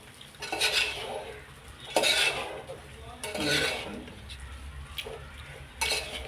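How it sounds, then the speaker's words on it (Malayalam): A spoon stirs and scrapes egg rice around a pan, giving repeated near scraping swishes with light clinks of metal on the pan, coming in several bursts. "നല്ലതുപോലെ ഒന്ന് മിക്സ് ചെയ്തെടുക്കാവേ നമ്മുടെ മുട്ട ചോറ് റെഡിയായിട്ടുണ്ട്"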